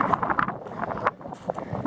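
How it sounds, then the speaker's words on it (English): Wind buffets the microphone on a mountain summit near Caples Lake, a steady, rough rumble with gusty thumps and flutter running through the whole short stretch, close and fairly loud. "It's getting windy, man."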